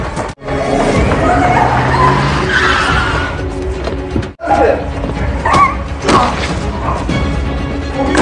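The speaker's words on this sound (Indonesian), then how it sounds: "Mereka terlibat aksi kejar-kejaran, bagaikan aksi balapan." Cars in a film police chase screech and skid through turns, with loud tire squeals and engine roar, brief cuts of near silence, and sharp impact thuds between the bursts.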